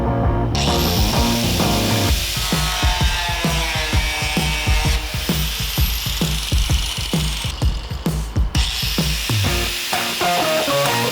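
An angle grinder cuts and notches the steel frame rail of a 1965 Mustang, giving a loud, continuous high whine with rapid gritty pulsing and a brief drop partway through.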